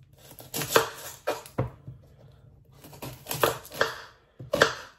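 Onions are chopped into small pieces with a knife on a kitchen board, producing irregular clusters of crisp close-up cuts and thuds separated by short pauses, with no talking.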